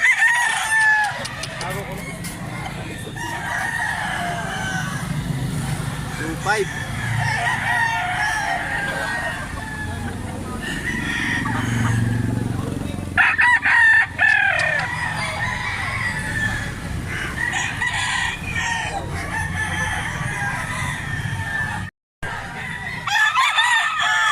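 Sweater gold gamefowl roosters crow repeatedly amid clucking hens, some close and loud, others farther off, with occasional voices in the background.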